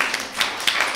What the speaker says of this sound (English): Let's give both of them a hand.